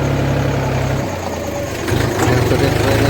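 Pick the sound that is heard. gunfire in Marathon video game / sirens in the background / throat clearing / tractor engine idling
tractor engine idling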